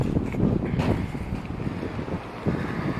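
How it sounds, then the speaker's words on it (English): Gusty wind buffets the microphone outdoors in snowy weather, producing a continuous low rumbling roar that swells and dips without pause, with no voices. "Sorry if it's windy."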